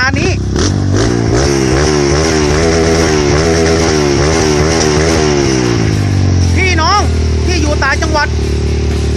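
A modified Kawasaki KLX 125 motorcycle engine revs loudly and steadily close by, its pitch climbing and holding through repeated throttle blips, with someone talking over it.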